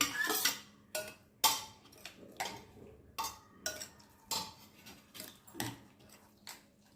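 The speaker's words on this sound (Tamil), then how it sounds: "எல்லாத்தையும் சேர்த்து கலந்து கொடுத்துக்கோங்க" Bread pieces mixed by hand or spoon in a bowl with carrot, onion, green chilli, curry leaves and capsicum, heard as a series of close, sharp clinks and scrapes against the bowl at an irregular rhythm, no voices.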